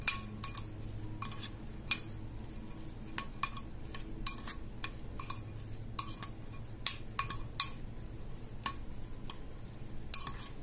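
Spoon clinking against a bowl while sprout chaat with lemon juice is mixed, a steady run of light metallic taps and scrapes repeating every second or so, close up and quiet, with no voices.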